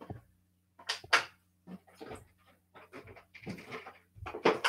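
Breathy, uneven bursts of a dog panting come in short clusters with brief pauses, fairly close and moderately loud, with no talking over them.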